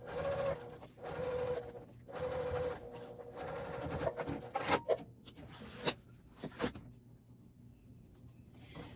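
A sewing machine runs basting stitches on a zippered makeup bag in several quick bursts with brief pauses between, close and clear, with faint handling noises and no talking.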